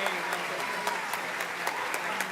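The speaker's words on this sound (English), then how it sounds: "We may applaud now." Applause at a school academic awards ceremony: a continuous bed of clapping with sharper, regularly spaced claps standing out about every quarter second, and voices murmuring underneath.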